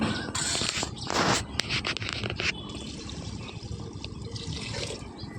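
Water splashes and gurgles as three glasses are poured into a pressure cooker for khichdi in a few quick bursts, then a softer trickle follows.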